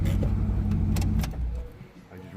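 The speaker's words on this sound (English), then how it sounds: "I just really do like the way this car sounds." A Triumph car's engine runs steadily up close, a low rumbling drone that eases off near the end, with a voice speaking over it.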